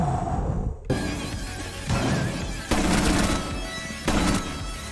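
Loud, sharp gunshots ring out in a video game, several blasts spaced roughly a second apart over a steady background din.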